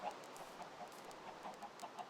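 Chickens in the video game Minecraft Bedrock cluck softly in short repeated bursts at an uneven rhythm, faint and close together.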